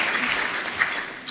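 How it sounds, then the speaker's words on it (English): An audience at a keynote speech gives soft, steady applause, a fairly distant, even patter of many hands clapping with no talk over it. "thank you for the applause too for that promise."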